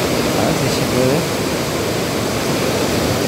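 Iguazu Falls in Misiones, Argentina, roaring as a steady, dense wash of falling water that fills the whole scene without a break, with faint voices barely surfacing beneath it.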